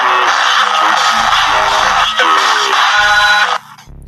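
Music or audio slowed down heavily in iMovie for a dramatic stop-motion effect, a dense, smeared, continuous sound with low drawn-out tones, fairly loud throughout before dropping off near the end.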